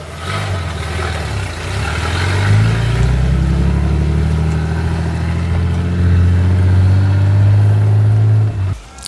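A Nissan GQ Patrol four-wheel-drive engine with a single-muffler exhaust runs loud and close, its deep throaty exhaust rising as it revs and then settling back down.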